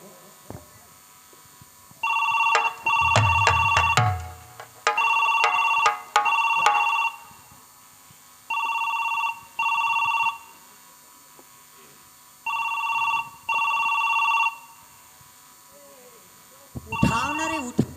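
A telephone rings with an electronic ringtone in a Chhattisgarhi folk stage play, repeating in paired bursts with short pauses, loud and close, among faint background voices.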